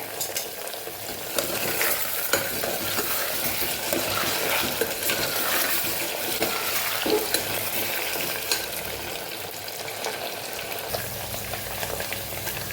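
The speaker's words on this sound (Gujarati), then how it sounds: "ઉપરથી થોડા બ્રાઉન થાય ને ત્યાં સુધી આપણા તેલની અંદર આપણે એને ફ્રાય કરવાના છે બટેકાને" Potatoes fry in hot oil with a steady, dense sizzle and bubbling, joined by occasional stirring scrapes against the pan, loud and close throughout with no voices.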